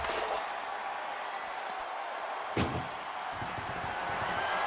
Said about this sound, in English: Can he get him into that ambulance now and shut the doors?